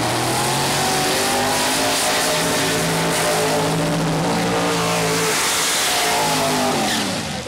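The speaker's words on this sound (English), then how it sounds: "completing the burnout" A Quick-8 outlaw pro mod drag car at Mooresville Dragway finishing its burnout roars loud and continuous with a high revving engine, rising and shifting pitch and tire noise over the whole stretch, with no talk.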